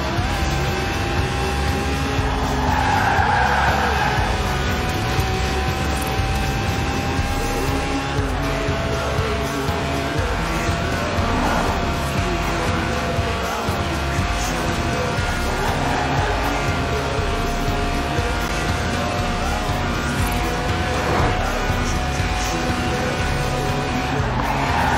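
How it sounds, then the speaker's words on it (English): Tires squeal continuously as a Lotus with a 1.8-litre engine drifts in Forza Horizon 4, with a steady high engine whine roaring underneath throughout. "The honourable art of drifting."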